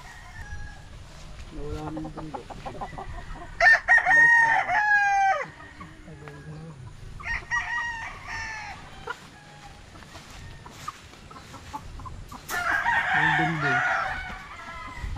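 A large oversize rooster at a gamefarm crows several times close by, long harsh calls separated by pauses, with other fowl clucking and crowing around it.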